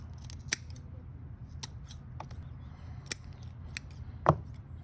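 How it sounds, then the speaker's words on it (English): Scissors snip through the wingtips and heads of plucked doves, sharp close clicks and crunches repeating irregularly about six times over a quiet background. "we're going to go ahead and remove the wingtips and the heads with a pair of scissors."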